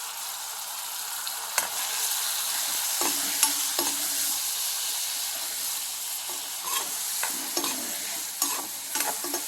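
Dried anchovies with ginger-garlic paste, turmeric, Kashmiri chili powder and salt sizzle steadily in a pan, with repeated scraping stir strokes against the metal over a continuous hiss of frying, close and with no talk.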